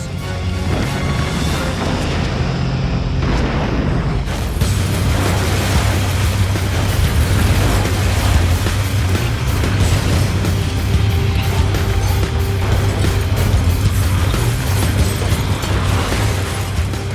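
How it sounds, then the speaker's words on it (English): A burning building's facade collapses in fire, a heavy, continuous roar of crumbling and rumbling debris with deep low rumble, loud throughout and building after the first few seconds, with no voices. "At 1:30 a.m., the east face of the 21st floor collapses."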